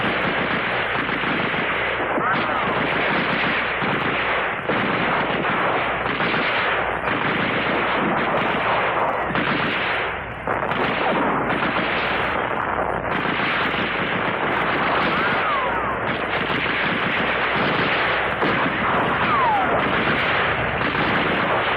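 Rifles and machine guns fire in a Korean War battle scene: dense, loud bursts of gunfire rattle almost without pause for the whole stretch, with heavy booming shots mixed in.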